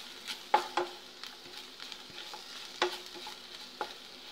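Turmeric and masala spices roasting in a pan for a paneer gravy, with soft scraping stir strokes and light sizzling at a low, close, intermittent level, no talking.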